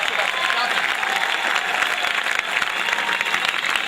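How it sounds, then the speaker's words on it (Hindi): Audience applause at a poetry recital during a college event, dense sustained clapping from a large crowd, loud and even throughout with a few voices blended in. "जोरदार तालियां एक बार आनी चाहिए।"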